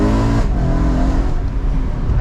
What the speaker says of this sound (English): My favorite part about the gearbox are those amazing blips when you do those lower gear downshift